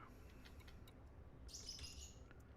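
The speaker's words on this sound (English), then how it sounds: "What you hear is my daughter's birds." Two pet birds, one red and one blue, chirp faintly in the background of a quiet room, with a brighter burst of tweeting partway through.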